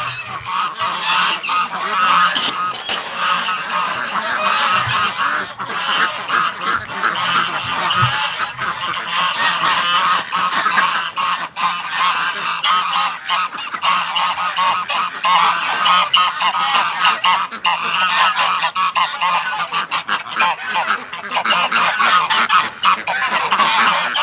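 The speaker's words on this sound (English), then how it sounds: "let's let the ducks out" Ducks and geese newly released from their pen honk and quack continuously in a loud, dense flock chorus that carries on without pause, with no talking over it.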